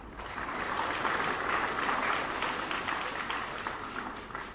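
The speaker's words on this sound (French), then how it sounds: "je vais vous demander de les applaudir" An audience applauds at an event in Benin, with a steady, dense wash of clapping that carries on without a break for several seconds.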